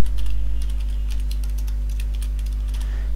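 Steady typing on a computer keyboard, a fast run of light key clicks that is close and clear, continuing throughout with no voices.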